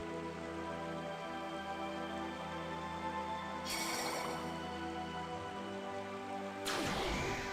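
Steady rain falls in the Radiant Historia video game, a constant hiss under layered background tones, with two sudden brighter surges partway through.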